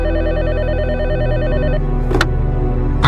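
A telephone rings with a loud, warbling electronic trill that runs for nearly two seconds and then cuts off with a click, part of a horror story narration.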